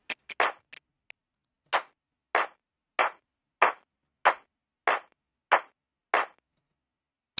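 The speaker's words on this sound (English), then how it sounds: "the first clap being, I think, the normal pitch, and the second clap being about like 5 semitones down" Two clap samples in an Ableton production, one at normal pitch and one about five semitones lower, sound as a dozen sharp dry claps spaced in a steady pattern, a few quick hits at the start, with no talking.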